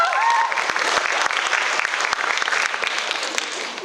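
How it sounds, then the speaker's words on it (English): Audience applause for a performance at a Chinese Culture Night show, a dense, steady burst of clapping from a crowd lasting a few seconds and tapering slightly at the end. "Please give a round of applause."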